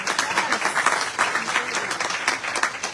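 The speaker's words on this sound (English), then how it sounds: "Let's give them a round of applause, please." Audience applause at an official independence launch ceremony in 2025, following a choir's performance: steady, dense clapping from a sizeable crowd, sustained evenly for the whole stretch with no voices over it.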